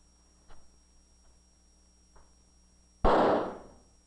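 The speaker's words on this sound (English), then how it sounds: "When that firecracker went off," Firecracker going off once, a single loud sharp bang with a brief decaying tail, preceded by a few faint ticks and clicks in a quiet room.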